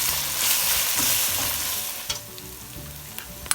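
Ginger garlic paste hitting oil with browned onions for chicken biryani, a loud steady sizzle at first that eases off, with a spoon stirring and scraping the pan and a few sharp clinks.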